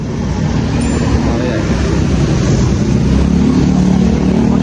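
A 2011 Suzuki Smash 115 motorcycle engine idles loudly and steadily nearby, a rough continuous drone.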